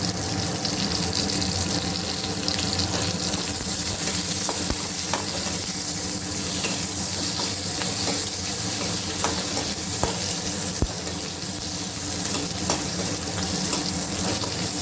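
Green chilli sautéing in a pan for a grandmother's chutney, a continuous close sizzle with scattered spatula scrapes and crackles, steady throughout.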